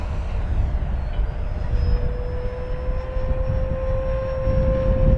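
An FMS Corsair 1700mm RC warplane model's electric motor runs on 8S power with a steady high whine, its pitch climbing slightly as it winds up, alone and fairly loud throughout.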